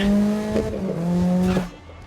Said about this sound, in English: Car volume is a tad loud.